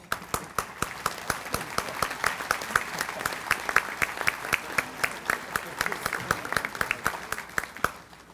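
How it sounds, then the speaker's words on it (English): A roomful of people applauding realtors at a business breakfast gathering, with loud, sustained clapping and sharp individual claps standing out close by, steady throughout with no clear talk. "could I have all of our realtors with us today please stand for a round of applause?"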